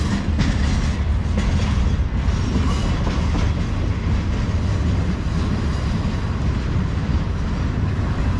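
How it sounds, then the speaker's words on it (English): A CSX freight train, a maintenance-of-way and manifest consist, rolls slowly past near a crossing, making a steady, close, loud rumble with a faint clatter of cars and no voices. "Yeah, they're going really slow."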